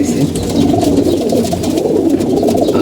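Pigeons coo close by in a continuous, soft, rolling murmur, several birds overlapping without pause.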